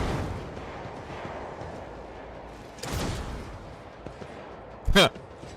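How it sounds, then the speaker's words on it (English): Grenade blast in a space-themed video game, one short sharp burst standing out near the end, with a softer thump earlier over a background of game noise and talk. "she got hit by the grenade, which kind of hurt her"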